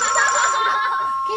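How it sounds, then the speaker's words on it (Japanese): A telephone rings in a home in a Japanese comedy sketch, a brief, loud electronic trill with a bright pulsing tone that cuts off after about a second. "ケンちゃん悪いけどお電話出てください"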